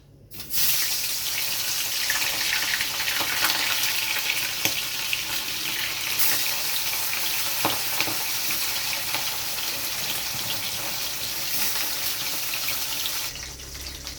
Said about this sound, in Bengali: ইলিশ মাছগুলো আমি ভেজে নেব।